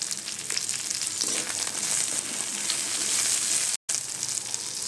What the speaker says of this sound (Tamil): ஆனியன் ஃப்ரை பண்ணிடலாம்.